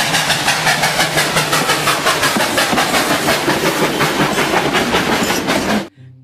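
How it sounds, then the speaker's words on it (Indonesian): A toy train rumbles past with a fast, rhythmic clickety-clack of wheels on rails, loud and close, then cuts off abruptly near the end. "Wah, ada kereta api."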